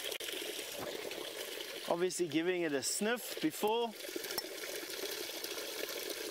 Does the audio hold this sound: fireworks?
no